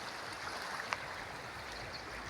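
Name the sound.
strong flow of water in a stream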